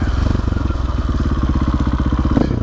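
A Husqvarna 450 FE supermoto motorcycle's single-cylinder engine runs close by, a loud, rapid, even thumping pulse with a slight rise in revs near the end, no talk over it.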